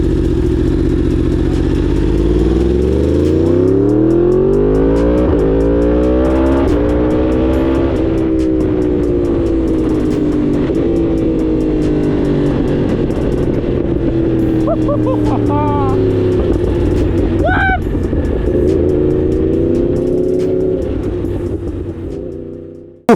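A 2023 Yamaha R1 sport motorcycle, rebuilt after a wreck, on a test ride, its engine loud and close as it revs up through rising and falling gear pulls continuously, with wind rush throughout.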